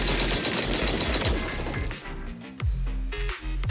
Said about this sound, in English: That was the sound of a heavy cannon?